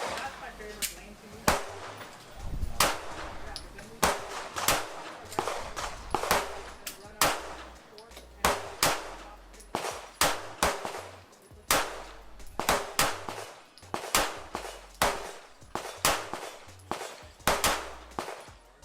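Rifle fitted with a Cyelee Cobra X Pro optic being fired at a gun club: loud, sharp reports come steadily one after another through the whole stretch, with other shooters' shots and range noise between them.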